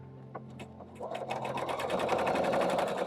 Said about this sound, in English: And I'm going to sew.